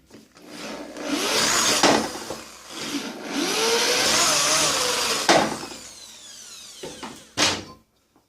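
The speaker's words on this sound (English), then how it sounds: "I'll just run the screws in here first, then I'll put the part on." Power driver running screws into a Delta table saw to mount a Vega utility fence, close whirring bursts of the drill with sharp knocks and clunks between runs, no talking.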